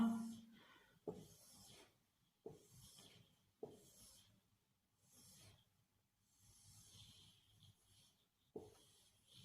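An eraser rubs out handwriting on paper, faint close-up scrubbing strokes repeated in short rhythmic bursts with pauses between them, no voices.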